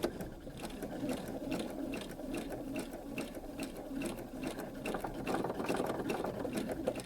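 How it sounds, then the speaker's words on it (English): A sewing machine does free-motion embroidery around an appliqué eye on a blackbird piece, running steadily and close for the whole stretch with a dense mechanical rattle. "We're going to sew just around the brown outlining that we did for the eye before."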